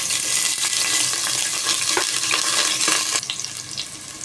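Garlic and ginger fry in a pan with a loud, dense sizzle, close and constant, softening slightly near the end as a few stirring scrapes and crackles come through, with no voices.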